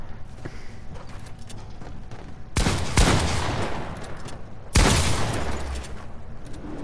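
Video game gunfire in two loud, sudden bursts of rapid shots, each running about two seconds, over a steady lower background of game sound.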